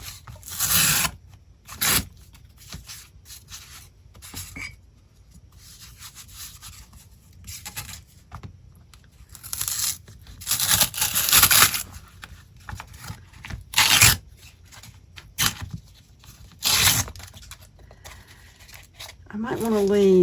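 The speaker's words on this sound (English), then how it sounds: "you have to get it pretty wet to get that to start peeling away." Wet paper is rubbed and peeled away for a junk journal, producing bursts of close, raspy tearing and scraping with pauses between them, while a person talks over and between the sounds.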